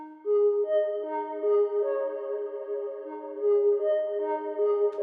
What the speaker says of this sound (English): This is the same melody, but I think I just used a slightly different synth patch